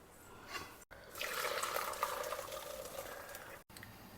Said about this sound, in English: Now we will drain out the excess water.